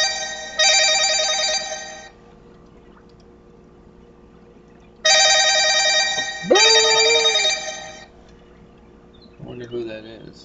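A phone rings with an incoming call during a Wurm Unlimited gaming session, two loud electronic ring bursts a few seconds apart, with a voice speaking over the second ring and a brief sound at the end.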